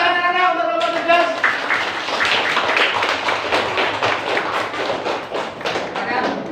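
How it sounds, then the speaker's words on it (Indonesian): A classroom of children clapping for a class group named Cerdas, a loud burst of many hands that fades out, with a voice heard at the start. "Beri tepuk tangan anak-anak untuk kelompok cerdas."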